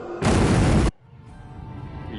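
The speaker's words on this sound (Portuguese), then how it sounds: "E explosão." A short, dense explosion in The Witcher 3 on PS5, a loud broadband burst lasting under a second that cuts off abruptly into a lower rumbling ambience.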